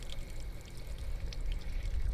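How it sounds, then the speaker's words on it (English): Water hissing and pouring out of an RV water heater's pressure relief valve, a steady close trickling rush that runs throughout with no voices. "So I'm just going to let a little bit of this water out."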